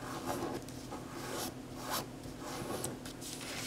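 A sheet of origami paper is folded in half to form a square base for a pinwheel container, giving soft, close swishing rubs and creasing scrapes in several slow strokes.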